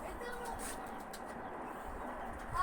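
A red-breasted pigeon coos faintly amid a steady wash of outdoor noise, the soft low calls blending into the background throughout.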